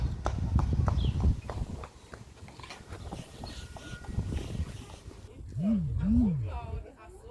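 Horses at a horse farm in Germany clop their hooves in an uneven rhythm close by, with a wavering call near the end and voices talking in the background.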